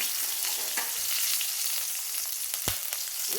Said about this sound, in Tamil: இது நல்ல வெங்காயம் வதங்கட்டும்